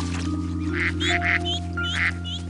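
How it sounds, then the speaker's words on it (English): A tiny duckling in a cartoon gives a run of quick, bright quacks over a steady low musical hum, with no talking. "hi, little duck."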